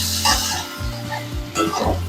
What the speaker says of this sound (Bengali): হাফ চামচ রসুন বাটা পেঁয়াজের সাথে ভালোভাবে কষে নেব।